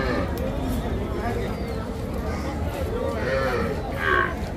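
Cattle and young calves, including Deshi, Sahiwal and Friesian, moo amid a busy cattle market crowd, with a louder low bellow near the end over constant chatter.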